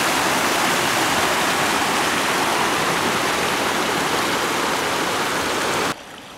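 Hot spring water rushes down a steaming river channel at Kusatsu Onsen, making a loud, steady, full roar of flowing water with no voices. The roar drops slightly near the end.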